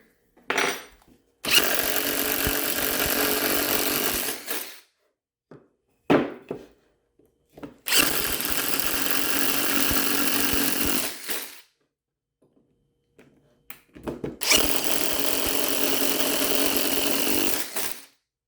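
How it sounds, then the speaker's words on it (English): A power drill with a 3/4 inch bit bores holes through a wooden board for a plant propagation stand, running in three long loud bursts of several seconds each, separated by short clicks and brief pauses. "I'm going to use a 3/4 bit. That way the hole is actually big enough to fit the test tube."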